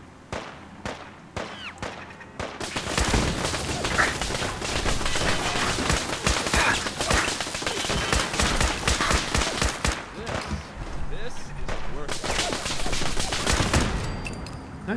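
Fallout 4 gunfire in a dense, loud rapid burst of repeated shots lasting several seconds, preceded by a few single shots, with brief pauses between volleys.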